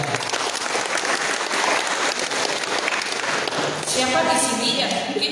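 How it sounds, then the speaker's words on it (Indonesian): Applause from an audience at a student leadership training session, a steady sustained clapping that fills the room for several seconds at close range, with faint voices mixed in beneath it. "Tepuk tangan untuk keduanya."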